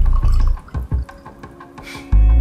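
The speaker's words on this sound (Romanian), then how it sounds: "avem aici un pahar cu apă, un pahar fără apă și o să-l umplem" Water poured into a glass, with uneven splashing and dripping and a few sharp knocks of the glass, ending in a louder gush near the end, with no talking.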